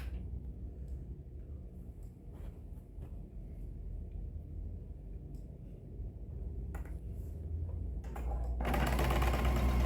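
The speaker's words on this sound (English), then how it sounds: "now I'm just going to sew these 2 to this 2" A sewing machine stitches table runner seams with a low, steady motor rumble and scattered light clicks, rising into a louder, denser burst near the end.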